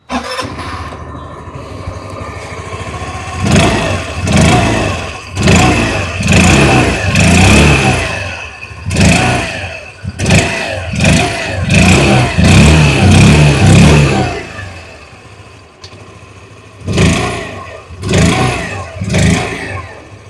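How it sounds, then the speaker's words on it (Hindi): A small 2026 Hero Destini 110 scooter engine is revved in repeated bursts, rising and falling close by, with short pauses at idle between throttle blips. "आइए अभी सुन लेते हैं इस स्कूटर की एग्जॉस्ट नोट"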